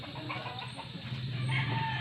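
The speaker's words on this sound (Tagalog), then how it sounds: "May manok. Mga manok namin guys." Chickens cluck and murmur at a moderate distance against steady outdoor background noise, with soft intermittent calls.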